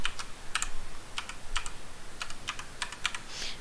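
Keys clatter on a computer keyboard in quick, uneven bursts of close, crisp taps, with no voices.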